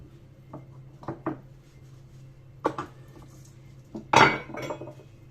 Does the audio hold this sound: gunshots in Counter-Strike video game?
no